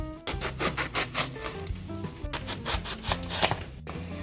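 A knife slices repeatedly through eggplant onto a cutting board, a quick even series of close, crisp chops.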